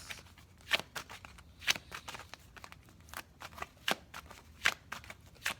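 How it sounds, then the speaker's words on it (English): Tarot cards shuffled and drawn during a reading, crisp riffling bursts and card slaps at an irregular pace, close and fairly quiet, with no talking. "let me go ahead and pull these cards for my beautiful Aries"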